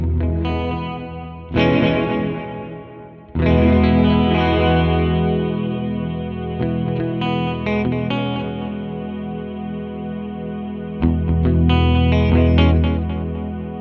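An electric guitar runs through an Alexander Space Force pedal, playing sustained chords and notes washed in delay and reverb, with strums returning at intervals and long repeating tails ringing out between them, loud and up close with no voice.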